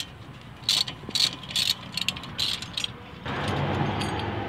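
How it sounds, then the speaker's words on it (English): A half inch socket on a ratchet works on the brake caliper of a Dodge Ram B250 van, giving a few short, close clicking bursts. A steadier broadband hiss or rumble follows near the end. "you're going to need a half inch socket, and you're going to remove the two retainer clips."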